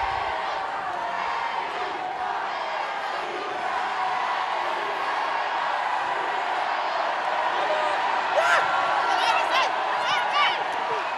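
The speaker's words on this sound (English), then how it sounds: "I think the Welsh crowd is louder than the Italians." A large stadium crowd at a women's rugby match between Wales and Italy roars steadily throughout, swelling slightly near the end, while a commentator talks over it.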